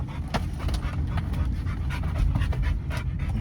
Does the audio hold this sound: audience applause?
no